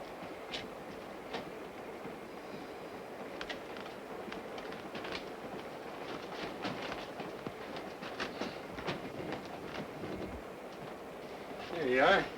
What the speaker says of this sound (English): Some trains they got here. This car must be 100 years old.